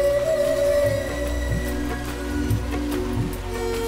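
Steady rain falling on a surface in a desert, a dense even patter that holds at the same moderate level throughout, with faint background tones and no voices.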